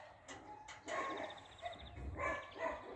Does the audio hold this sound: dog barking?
yes